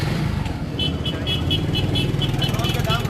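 A motorcycle engine idles and runs nearby with a loud, throbbing low drone, joined by a brief repeating high beep and voices in the background.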